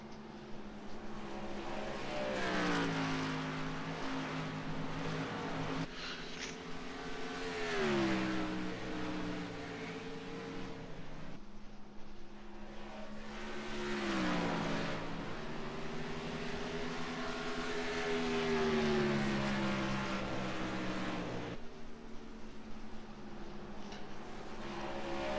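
Race car engines in the iRacing video game whine and drone continuously, their pitch sweeping up and down in repeated passes over a steady background roar, moderately quiet throughout.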